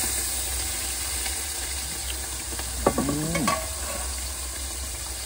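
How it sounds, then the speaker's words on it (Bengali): Fish frying in hot oil gives a steady, close sizzle throughout, with a few brief clinks from a stirring utensil near the middle. "চপ চপ করছে তেল।"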